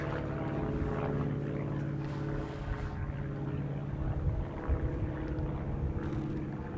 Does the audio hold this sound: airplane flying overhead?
yes